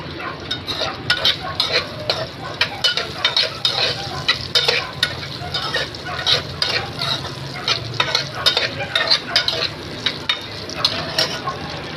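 Chopped ginger frying in a pan for chicken pakbet in coconut milk, a continuous close sizzle broken by repeated scrapes and knocks of a spoon stirring it, with no talking.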